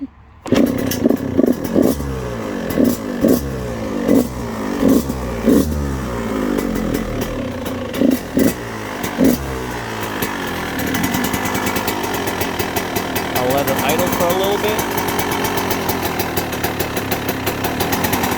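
A Yamaha YZ125 two-stroke dirt bike, just after a transmission oil change, starts with rhythmic kicking thumps and then settles into a loud, close, steady engine buzz with rising revs near the end.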